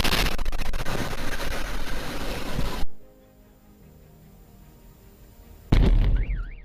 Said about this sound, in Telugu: ఒక్కసారిగా పేలుడు క్రియేట్ చేసిన షాక్ వేవ్స్ బీభత్సం సృష్టించాయి